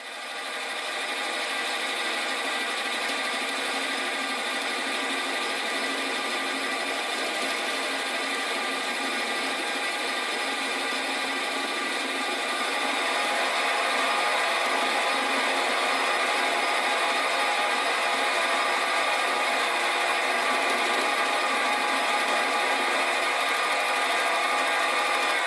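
A lathe turns a taper on a steam engine beam using fine carriage feed, giving a steady, even hiss of cutting and motor hum that continues without pause and grows slightly louder partway through.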